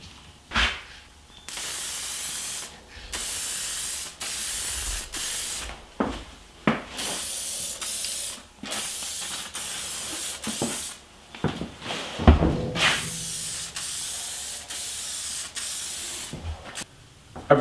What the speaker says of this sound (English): I'm ready to finish the frame with a few thin coats of lacquer.